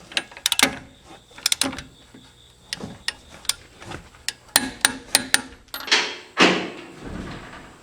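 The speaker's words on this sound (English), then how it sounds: "we'll torque these two bolts to 91 foot-pounds." A torque wrench tightens brake bolts on a Land Cruiser to 91 foot-pounds, giving sharp ratcheting clicks and metallic knocks in irregular bursts, close and alone without talk.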